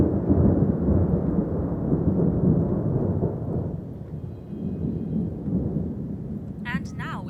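A thunderstorm with a long, loud rolling rumble of thunder over steady rain, fading slightly partway through, with a brief chirping sound at the very end.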